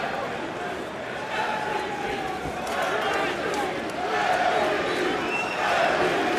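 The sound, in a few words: crowd reacting at a Bellator MMA fight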